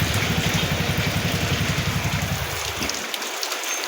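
Steady rain falling at a home, a dense even hiss with a pulsing low rumble underneath that drops away near the end, no voices.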